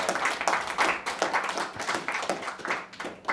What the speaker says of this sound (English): I think we should give both our speakers a round of applause